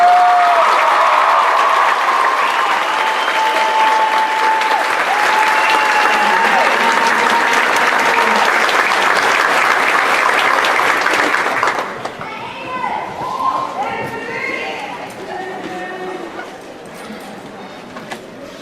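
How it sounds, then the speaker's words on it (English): Applause from an audience at a school awards evening fills the room, loud and sustained with a few children's voices mixed in, then thins out and gives way to scattered chatter. "one last round of applause for all of our"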